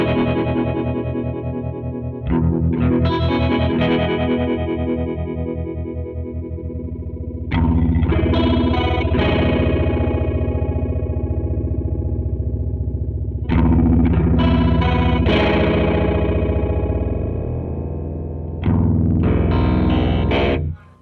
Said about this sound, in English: That's a ring mod.